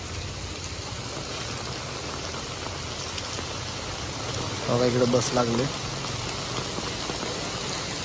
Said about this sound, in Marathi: घाण पाऊस पडतोय ना की काय सांगू तुम्हाला.